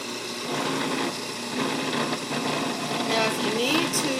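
A blender whirs loudly and steadily as it mixes walnut pesto with olive oil, a continuous close motor drone that runs the whole time.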